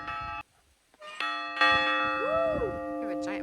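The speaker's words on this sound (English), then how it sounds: "ring the bell." A monastery bell at the Barón de Ley winery in Rioja is struck several times, each ring bright and metallic with long ringing tones that overlap and sustain, close and fairly loud, with voices murmuring nearby.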